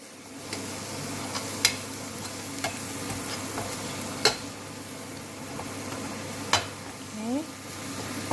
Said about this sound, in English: So I'm going to just stir this all together.